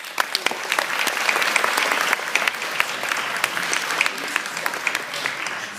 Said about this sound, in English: Can we give them another hand of applause?